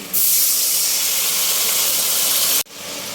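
Onions, green chilies and ginger paste frying in a pan give a loud, steady sizzling hiss that starts abruptly and cuts off sharply near the end before faintly resuming.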